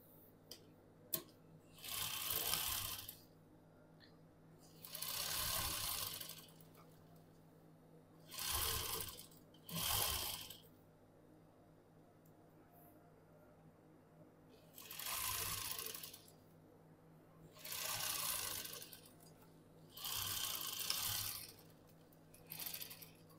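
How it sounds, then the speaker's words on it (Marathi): A sewing machine stitches an umbrella frock in seven or eight short bursts of rapid whirring, each lasting a second or two, separated by quiet pauses in a calm room. "आता आपण सरळ टीप मारायची आहे"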